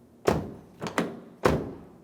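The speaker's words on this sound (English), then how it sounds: "Now we can test the functionality while shutting and opening the door." Front door of a 2003–2008 Toyota Matrix being shut and worked after a handle replacement, several loud close thunks and latch clicks, the last a solid slam, with no talk.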